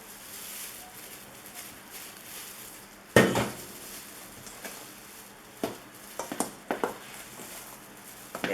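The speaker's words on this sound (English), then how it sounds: "Okay, so you start mixing that here." Cupcake batter is stirred and mixed in a bowl, with soft scraping and faint utensil clinks, one sharp knock against the bowl, and a run of light taps near the end; no one speaks.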